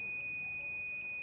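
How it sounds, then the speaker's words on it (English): A steady high continuity beep from a multimeter held across the gate and source of a shorted MOSFET on an ASUS H61 motherboard, one continuous tone held for the whole moment, faint and alone. "now the gate terminal and source terminal of this MOSFET is giving beep"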